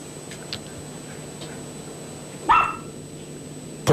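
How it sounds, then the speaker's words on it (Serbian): A dog lets out two sharp, short barks about a second and a half apart, heard indoors over a quiet steady hum and a faint electronic whine. "Evo, pas mi laje"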